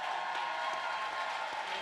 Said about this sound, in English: Please give the Vice President of the United States of America another round of applause.